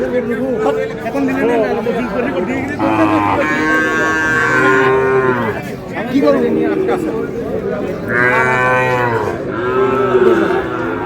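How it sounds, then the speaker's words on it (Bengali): Sahiwal bulls and calves at a cattle market (haat) in Dinajpur, with a bull giving two long, loud moos close by. Steady crowd chatter and bargaining voices run underneath throughout. "শাহিওয়ালের ষাঁড়"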